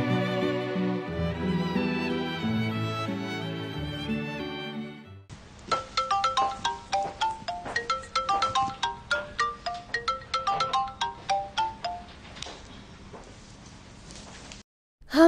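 A melodic electronic ringtone plays, first as sustained tones, then as a rapid repeating pattern of bright plucked notes, fairly loud and with no voices.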